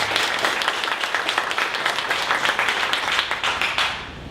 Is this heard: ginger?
no